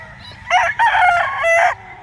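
A white Kelso gamefowl rooster crows once, loud and close, a drawn-out cock-a-doodle-doo lasting over a second.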